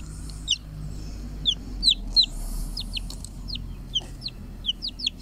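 A chicken in a village in Soca, Romania, gives a string of short, bright clucks and chirps, close and clear over a low steady background hum, spaced irregularly through the whole stretch.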